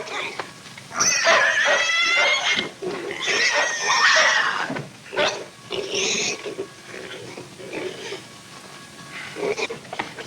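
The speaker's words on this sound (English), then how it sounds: "Something's wrong with the pig." A distressed pig squeals and oinks in loud, shrill bursts that come in irregular bouts with short gaps between them, with a few fainter grunts toward the end.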